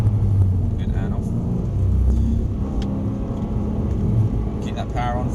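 A Mercedes-Benz car accelerates on a driving track, its steady engine rumble and road noise droning continuously with a slight rise in power, while a driving instructor talks over it.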